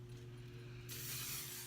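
Garnier Fructis Flexible Control hairspray sprayed over a braided hairstyle, a single sudden aerosol hiss that starts partway through and continues steadily, close and fairly quiet over a low background hum.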